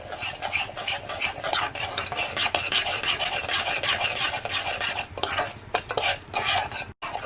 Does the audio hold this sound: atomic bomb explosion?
no